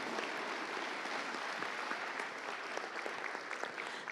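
An audience at the ReaperCon 2023 MSP Open awards ceremony claps steadily, a dense and even wash of applause heard from within the room, moderately quiet, with no voices over it.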